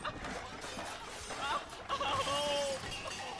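Glass shattering in a Minecraft theme-park game, a brief bright crash of breaking panes amid game noise, with people talking and laughing nearby.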